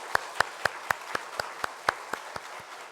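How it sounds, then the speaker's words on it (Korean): Evenly spaced claps ring out one at a time in a church sanctuary, about ten sharp strikes in steady rhythm, as a congregation applauds during a Sunday worship service. "하나님 앞에 큰 박수로 영광 돌리겠습니다."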